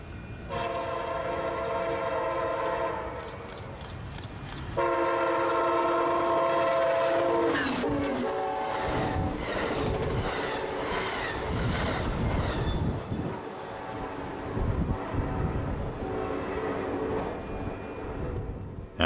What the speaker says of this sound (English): Just like incoming southbound Amtrak number 1562 going a bit over 80 miles an hour through the station.